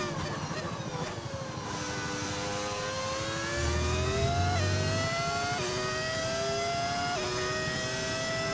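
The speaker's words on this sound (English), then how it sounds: "Why do you have a V10 engine? Because it sounds amazing, that's why." F1 25 racing game car with a V10 engine, a loud continuous high-pitched engine scream with rising pitch sweeps through gear changes, steady and close throughout.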